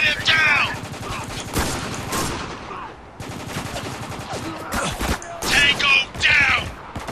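Repeated heavy bursts of automatic gunfire fill a Spec Ops: The Line firefight, loud and continuous with brief lulls, and voices come in under the shooting.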